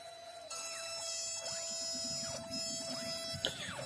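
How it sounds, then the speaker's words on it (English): A CNC machine cutting a mortise in wood for a Japanese-style shoji screen, giving a steady whirring whine with repeated swooping tones as the spindle moves, no talking. "the mortises are being cut with the CNC"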